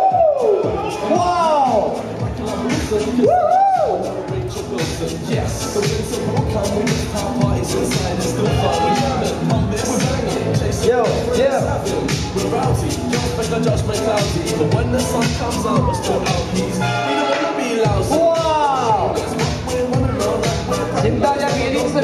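Audience at a family-day unicycle performance cheers and whoops loudly and continuously, with crowd babble and an announcer's voice over the noise throughout.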